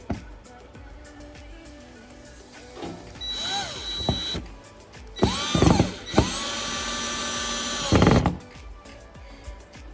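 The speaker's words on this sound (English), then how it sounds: "I'm going to drill the screws in." A power drill whirs in several short bursts, revving up and winding down as it drives screws through a metal piece into a wall, with quiet pauses and handling noise between.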